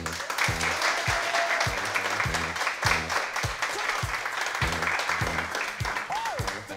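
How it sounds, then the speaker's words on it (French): A studio audience applauds as game-show candidates are welcomed, a dense, sustained burst of clapping under rhythmic music and a voice. "Tous vos applaudissements."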